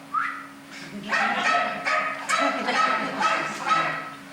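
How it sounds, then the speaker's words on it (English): A dog on stage during a theatre production of The Woman in Black gives several short, sharp yips and barks in quick succession, fairly loud and close against a faint background hum. "Then take a dog."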